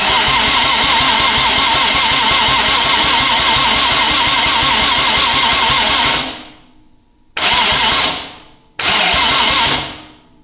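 Audi RS4 saloon engine cranking on its starter motor, a loud steady rhythmic churning that runs for about six seconds, stops, then comes back in two shorter bursts, each ending abruptly.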